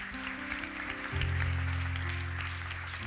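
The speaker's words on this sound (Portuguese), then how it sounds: "Você pode aplaudir o Senhor para a vida do Mateus?" Church congregation applauding during a service, a steady wash of clapping over sustained low organ or keyboard chords.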